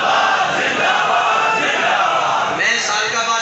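A large crowd at a religious gathering chants the slogan Tajdar-e-Khatm-e-Nubuwwat in a loud, sustained roar of many voices, close and filling the whole stretch.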